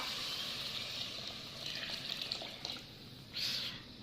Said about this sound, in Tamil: இப்போ கரைச்சி வச்சுருந்தோம்ல அந்த புளியை ஊற்றுறோம்.